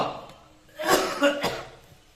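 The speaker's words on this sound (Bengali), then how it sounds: "সবার কাশি" Several short, soft coughs come in a quick cluster during a home Lakshmi puja on Ras Purnima, faint and close.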